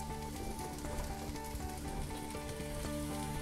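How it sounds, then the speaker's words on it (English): Steady, dense sizzling of mushrooms frying in a hot pan, crackling continuously at close range with no voices. "if you can hear it, it's sizzling"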